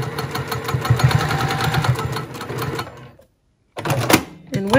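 A sewing machine top stitching pieces of a bag, running at a steady mechanical rattle for about three seconds, stopping briefly, then starting again, close and fairly loud, with a voice speaking over it.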